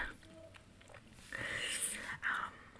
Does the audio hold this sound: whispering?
yes